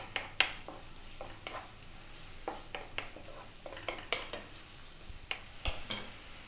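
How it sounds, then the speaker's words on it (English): Onion and garlic frying in olive oil over medium heat, a soft low sizzle with repeated light clicks and scrapes of a utensil stirring the pan, quiet and close. "I've got a little bit of olive oil in there. Medium heat. In goes that 1 cup of onion. That 1 tablespoon of garlic."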